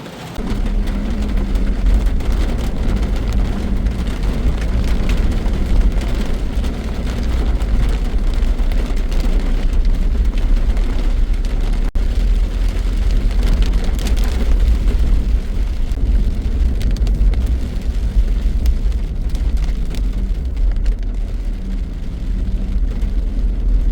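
Heavy monsoon rain over a jungle road, heard from inside a vehicle: a dense, steady roar of downpour with deep rumbling low end, loud and unbroken for the whole stretch, no talk.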